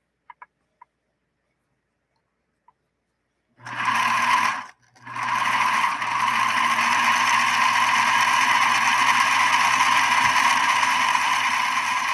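A Bernina Minimatic 707 sewing machine starts up after a few faint ticks and stitches steadily and loudly up close, with a whirring, buzzing hum. It stops briefly once, then runs on without a break.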